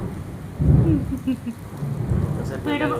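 Thunder rumbles low during steady rainfall, a short stretch of deep rolling noise over the patter of rain. Faint voices are mixed into the background.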